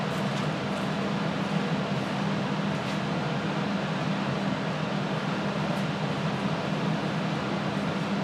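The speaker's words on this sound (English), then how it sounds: "that's just my fish tanks and stuff that I have off in the one side corner" Aquarium fish tanks running in a corner of a workshop give off a faint, steady hum and hiss with a low drone, constant throughout and with no speech.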